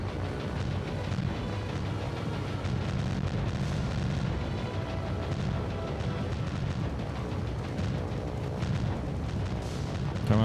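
Continuous heavy anti-aircraft barrage from a naval fleet in the video game War on the Sea, a dense rumbling wall of overlapping booms and bursts, loud and unbroken throughout.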